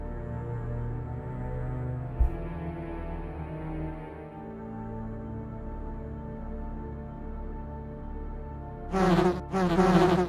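Buzzing of bees in the Sega Saturn version of Resident Evil 1, a loud swarming drone with a steady hum running underneath, then a sharper burst of buzzing near the end.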